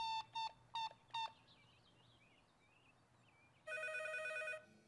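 Cartoon telephone ringing in a Polish children's cartoon: four quick bright bell-like rings at the start, a pause with faint chirpy warbling, then a longer sustained electronic ring near the end, clear and close.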